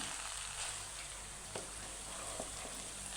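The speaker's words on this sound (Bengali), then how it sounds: "চালটা আমি ভালো করে গোসের সাথে ভাজা ভাজা করে কষিয়ে নিয়েছি দেখেন" A soft, steady sizzle of rice frying with beef in a pot for biryani, with occasional faint clinks of stirring and no voices.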